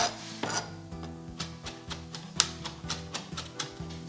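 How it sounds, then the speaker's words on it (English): A knife cross-chops herbs on a cutting board for roast turkey gravy butter, a steady rhythm of close, crisp taps about three per second, with no voices. "You're just going to cross chop it down fine, keeping one hand on top of the knife and going"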